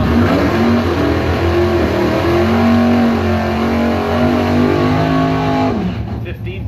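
A Dodge Stealth drag racing car roars loud and steady at a drag strip, its engine tone holding high before dropping away near the end, with announcer chatter over it.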